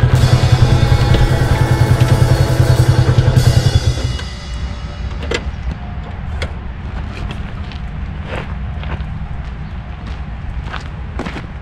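A Yamaha YBR 250 four-stroke motorcycle rides with a loud, throbbing engine for the first few seconds, then settles into a quieter, steady rumble with scattered clicks and knocks.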